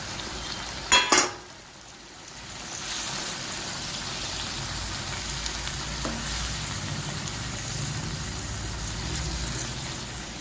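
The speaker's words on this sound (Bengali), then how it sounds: "ট্যাংরা মাছগুলো এখানে আমি ঢেলে দিলাম।" Tangra fish land in a pan with a brief clatter and splash, then cook in a steady, even sizzle that continues close by.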